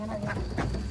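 Ducks for sale at a market give a couple of short, nasal quacks close by, set against a low murmur of background noise.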